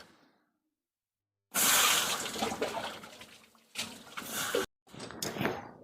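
Washed potatoes tipped into a hot pan, a sudden loud splashing sizzle that bursts in, briefly breaks off and returns in short close surges after a moment of quiet.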